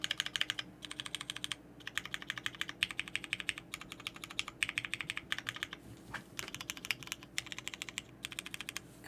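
Continuous typing on an MB-TKL prototype 40% mechanical keyboard, close and clear, with bursts of rapid clacky keystrokes separated by brief pauses and no talking.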